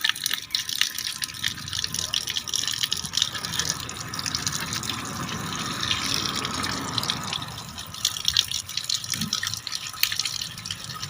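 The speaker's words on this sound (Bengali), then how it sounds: "এই মাছকে এইভাবে ঘষে ঘষে ধুতে হয়, মাটির থেকে থাকে তো এরা" Tap water runs steadily while whole snakehead fish are rubbed and rinsed by hand in a kitchen, giving a continuous splashing gush with small knocks, close to the microphone and with no talking.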